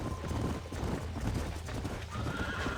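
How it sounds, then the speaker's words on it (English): Horse hooves clip-clop steadily in the Western video game Red Dead Redemption, mixed with a whinny and dense game ambience, moderately loud and continuous. "These are fine horses."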